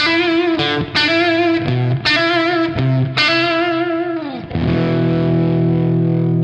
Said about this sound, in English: just a Fender Strat into a dimed Marshall